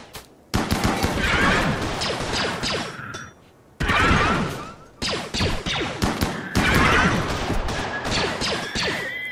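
Rapid bursts of automatic gunfire from a mounted gun in RimWorld, loud and close, in three long volleys separated by brief gaps with a few sharp mechanical clanks.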